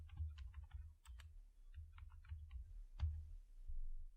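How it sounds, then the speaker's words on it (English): Typing on a computer keyboard, with steady clusters of key clicks and a few louder presses, close and clear with no talk. "So here I'm going to type hello world."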